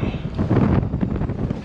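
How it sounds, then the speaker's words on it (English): Gusty, wet wind buffets the microphone in rumbling bursts, loud and close, rising and falling without pause. "Windy, wet, horrible Stafford."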